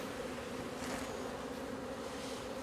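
Honeybees swarming around an opened hive during queen rearing, a dense, continuous drone of many wings filling the air close by, steady and unbroken with no voices.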